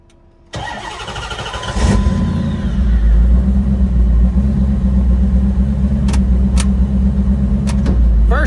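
A twin-turbo HEMI engine in a car fires up with a sharp start at half a second, then settles into a loud, steady, deep rumbling idle with slight surges, close by and with no voices.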